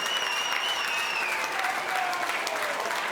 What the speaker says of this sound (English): they're the cheers you can hear in the background